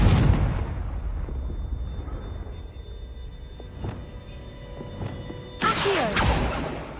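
A fiery blasting-curse explosion from the Hogwarts Legacy video game, with a loud opening boom that rolls off into a rumbling decay, then a second sharp burst near the end.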